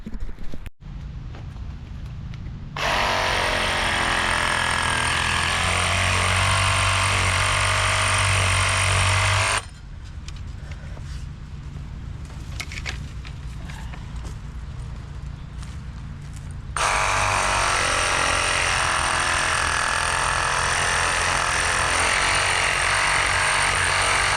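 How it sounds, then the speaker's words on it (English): A Craftsman Sawzall with a pruning blade cuts through small tree stumps outdoors, a loud, steady reciprocating buzz running in long bursts with a short pause between them. "See, all these are getting cut out with the Sawzall."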